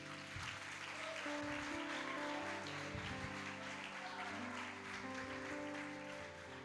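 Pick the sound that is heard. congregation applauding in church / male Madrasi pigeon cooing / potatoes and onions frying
congregation applauding in church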